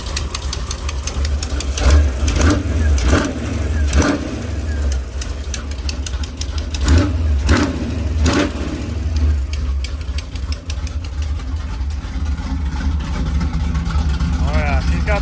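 A 1953 Chevy pickup engine runs with a bad exhaust leak, loud and close, with a rough choppy idle broken by sharp rhythmic popping and ticking bursts that rise and fall as the throttle is blipped.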